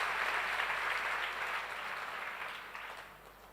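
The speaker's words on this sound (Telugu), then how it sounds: "చప్పట్లు కొట్టి ప్రభుని మహింపరచుదాం." A church congregation clapping together in praise, a broad, even wash of applause that slowly fades toward the end.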